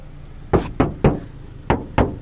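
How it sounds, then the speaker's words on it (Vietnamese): Five sharp knocks on the thin steel door panel of a Mazda 2 without added sound deadening: two quick raps, a third, a pause, then two more, close and loud with no talking. "Cánh cửa tôn vỏ mỏng luôn."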